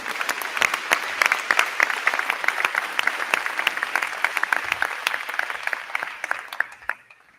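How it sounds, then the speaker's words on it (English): An audience at a school board meeting bursts into sustained applause, dense clapping that stays loud for several seconds before thinning out at the end. "Give them a hand anyway."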